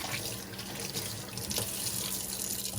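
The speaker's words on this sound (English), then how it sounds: "that's why I always rinse it with water again" Tap water runs steadily over orchid roots being rinsed during repotting, a close, continuous splashing rush from the faucet with no voices.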